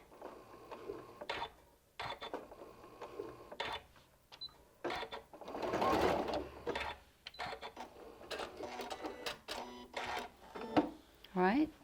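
Sewing machine stitching quilt pieces for a LeMoyne star block, short bursts of rapid mechanical chatter broken by pauses. A person talks quietly in between, and the sound stays fairly soft and close.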